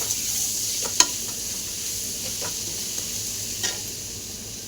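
Grated carrot sautéing in a pan for vermicelli, a steady sizzle with a few light scraping stirs of a spoon, close and continuous without talk.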